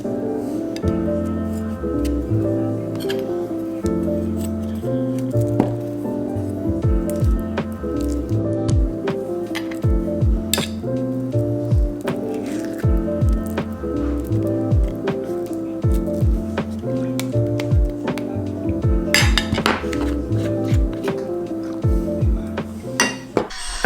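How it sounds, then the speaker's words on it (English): Cutlery clinking and scraping on dishes as someone eats breakfast at home, steady close taps and clinks throughout with soft squishy chewing-like sounds underneath, no talking. "Okay, now we eat."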